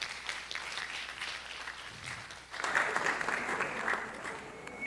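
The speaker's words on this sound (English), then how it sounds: "Can we please give her a round of applause?" Applause at an annual general meeting, scattered clapping at first that swells after a brief dip into a fuller, louder round from the gathered audience.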